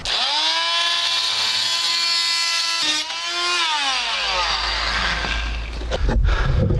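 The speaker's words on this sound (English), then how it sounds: "use my good old Parkside multi-tool with a plunge cutter to basically plunge cut in to try and cut them" Parkside multi-tool fitted with a plunge-cut blade buzzes loudly and steadily into a race car's front splitter, its pitch dipping as the blade bites, with a brief break near three seconds and rougher grinding toward the end.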